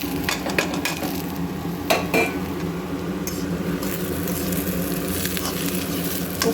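Onions sizzle and fry in a pan with bitter gourd, a steady crackling hiss broken by occasional clinks and scrapes of a utensil against the pan.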